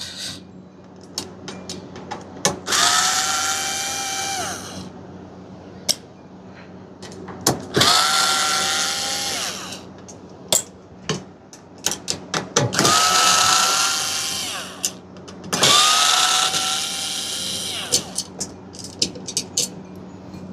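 A power drill backs the motor screws out of a 2020-21 Lasko B20301 box fan, with four rising whirring bursts separated by clicks and handling clatter, close and loud, with no talking.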